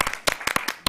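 Scattered clapping from a small audience at a digital and creative community awards night in Derby, a few distinct, close hand claps in an irregular rhythm over a moment of near silence.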